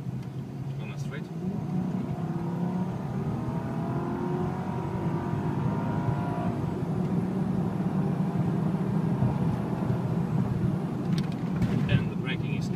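Supercharged 5.5-litre V8 Mercedes-Benz AMG accelerating on a dry straight, a rising engine drone building gradually over several seconds from inside the car, with a person talking throughout.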